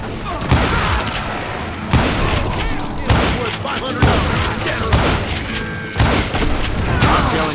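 A dense, loud stream of gunfire from the Wild West shooter Call of Juarez: Gunslinger, with repeated booming shots about once a second over a constant crackle of fire, while a voice talks underneath.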